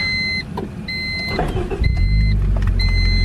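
A 2000 Honda Civic Si EM1 with a swapped B18C Type R engine cranks and catches into a steady, close idle after a series of repeated electronic dashboard chimes inside the car.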